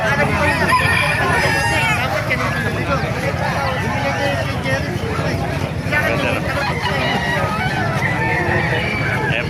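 Roosters crow amid a busy outdoor market in Calumpit, Philippines, with people chattering and clucking fowl mixed into the steady background.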